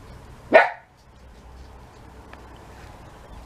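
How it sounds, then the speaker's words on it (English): A single sharp dog bark rings out near the start, fairly close and loud, followed by quiet room ambience with a faint click or two. "Can always rely on Timmy to bark."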